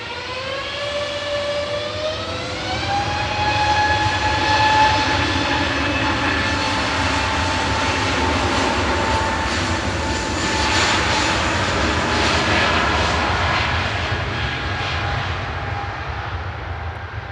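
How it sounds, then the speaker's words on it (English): An EasyJet jet departs Manchester Airport for Paris Orly, its engines building from a rising whine into a loud, sustained roar with tonal harmonics climbing early, then a steady broadband thunder, no voices present. "EasyJet departing to Paris Orly there with flight 2115"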